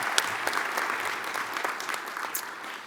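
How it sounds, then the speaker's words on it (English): An audience at an awards luncheon gives a round of applause, steady and moderately distant clapping with no voices, filling the whole moment evenly. "Let's give them a big round of applause"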